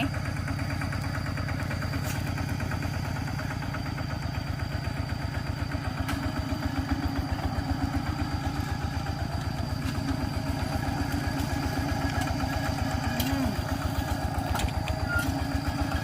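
A walking tractor's single-cylinder engine runs steadily for a long stretch, a fast, even low chugging thump at moderate distance with no voices over it.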